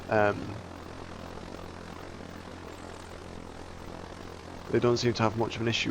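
A fixed-wing UAV drone in the video game Arma 3 flies with a steady propeller engine drone, moderately loud and continuous, while someone speaks briefly at the start and again near the end.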